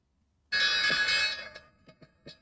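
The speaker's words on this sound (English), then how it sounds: "All right, there is the bell." The stock market opening bell rings loudly for about a second, a bright sustained metallic clang that then decays into a few fainter clanging strokes.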